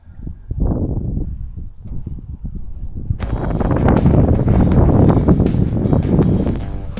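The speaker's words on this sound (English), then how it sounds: "See if I can block that wind." Wind buffets the microphone on a solo kayak trip down the Suwannee River, first in weak low gusts, then a loud, steady rumbling roar over the second half of the clip.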